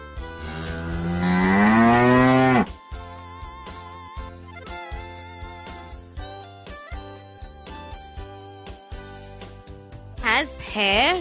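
A cow lets out one long, loud moo lasting over two seconds, followed by a stretch of gentle music.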